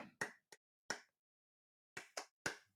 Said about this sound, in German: Ja, ich klatsche in die Hände